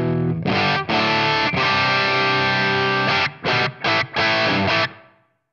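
A distorted electric guitar through a NUX Trident with reverb plays sustained chords, then a few short stabs, with the final chord ringing out and fading.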